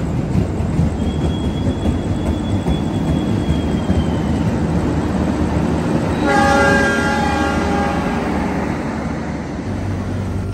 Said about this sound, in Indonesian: Ini sekarang kereta api Pandalungan melintasi stasiun Cirebon Perujakan